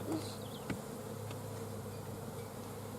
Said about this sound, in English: You can see them all buzzing around getting pissed.